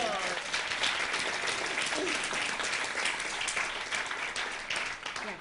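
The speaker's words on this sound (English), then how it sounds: "Give him a round of applause." An audience breaks into sustained applause, with dense, steady clapping from a crowd filling the room for several seconds.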